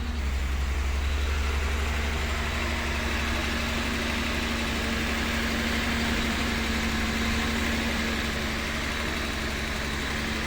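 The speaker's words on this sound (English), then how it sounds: "A cold start works out perfectly." A Datsun 280Z engine idles steadily after a cold start, a loud continuous low rumble close by with no talk over it.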